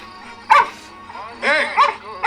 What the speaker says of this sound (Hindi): डॉगी भौंक रहा है।